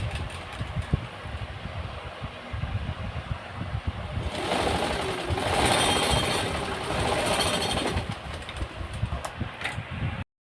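A sewing machine stitching a churidar, running in a loud rapid mechanical chatter that speeds up in the middle and slows again, close by and alone without speech.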